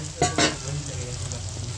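Ground spices fry in oil in a pan for palak paneer, with a steady close sizzle under two quick stirring scrapes near the start.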